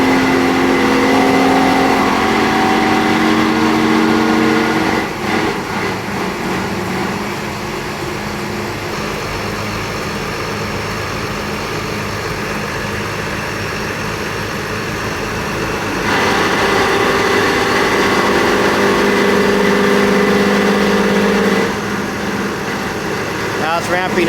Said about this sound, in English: This is going to go to a set RPM that they're using for a warm-up feature and slowly climb up to the operating pressure.